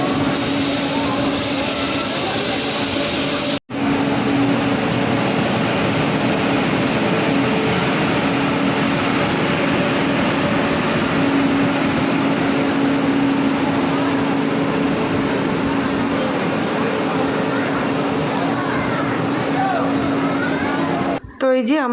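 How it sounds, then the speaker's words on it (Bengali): A train arrives at a station platform, its rumble building into a long, loud, steady roar and rattle of passing carriages, broken once by an abrupt cut, with people talking over it. "ওই যে ট্রেন আসছে আমাদের"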